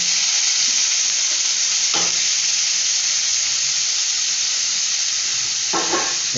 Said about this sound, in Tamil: நல்லா அப்படியே மிக்ஸ் பண்ண வேண்டியதுதான்